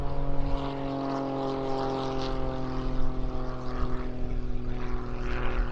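Jet aircraft flying an aerobatic display at the Eastbourne International Airshow, reverse knife edge and high alpha manoeuvres, a sustained droning engine roar with a steady tonal whine, loud and continuous.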